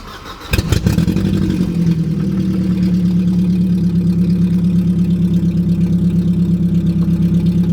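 Four-cylinder engine of a Mercedes-Benz coupe cranking briefly and catching, then settling into a steady, even idle close by.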